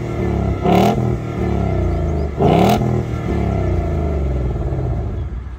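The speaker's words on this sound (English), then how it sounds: "have a listen to this exhaust system" A Ford Mustang GT convertible's V8 engine revs hard twice, its exhaust roaring up and dropping back, over a steady deep idle rumble.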